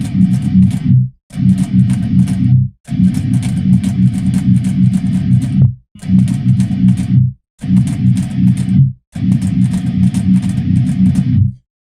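Heavy distorted electric guitars chug through a song's breakdown, loud low palm-muted bursts cut by abrupt silent gaps in a stop-start pattern.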